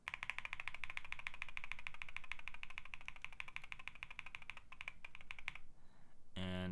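Rapid, steady keystrokes on a QK65 keyboard fitted with stock JWK Yellow switches, a dense even clatter that runs for most of the clip before stopping, followed by a brief burst of different noise at the end.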